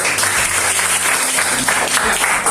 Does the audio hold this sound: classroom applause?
yes